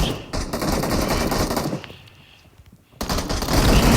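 Rapid automatic gunfire in a video game, loud and continuous, dropping off briefly in the middle before another dense burst of shots resumes.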